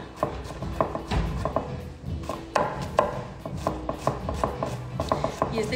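A new knife chopping onion on a board, sharp irregular knocks arriving in quick bursts with brief pauses, close and crisp with no talking over them.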